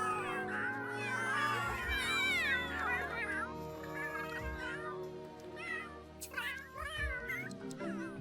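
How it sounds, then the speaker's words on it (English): A cat's melodic meowing in greeting, a series of rising and falling meows, close and clear over a soft musical background, with a few shorter calls toward the end. "Yuna's melodic meow greeted the returning cats of StoneClan"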